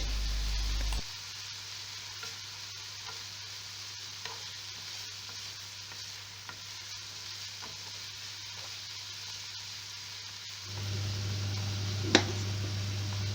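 A steady, sizzling hiss of vegetables frying and sautéing in a pan, with faint scrapes and one brief clatter near the end, no voices.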